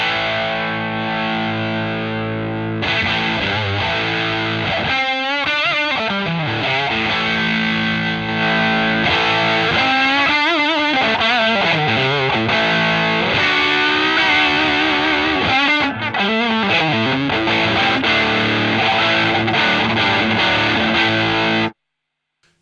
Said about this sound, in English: There's heaps of drive on tap with the OCD circuit from General Guitar Gadget.